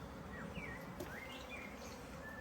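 A steady, close buzzing of honeybees at a hive fills the air, a dense continuous hum with occasional higher whines of individual insects passing by.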